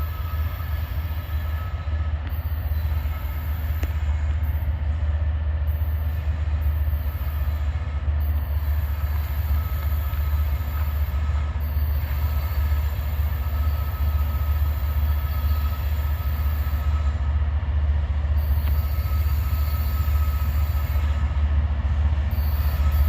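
A train, likely an AC44 locomotive, rolling in for a stop, with a loud low rumble, steady wheel noise and squealing wheels throughout, close by and sustained with no talk.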